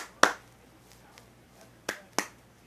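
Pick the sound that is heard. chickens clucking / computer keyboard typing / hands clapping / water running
hands clapping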